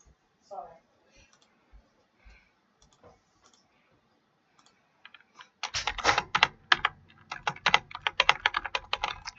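Rapid keyboard typing bursts in loudly partway through, dense irregular clacking of keys after a few seconds of sparse faint clicks and brief voice sounds.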